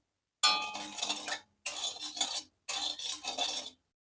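Parle-G biscuit mixture and water stirred in a pan, heard as three separate bursts of close, gritty scraping and clinking strokes with short silent gaps between them.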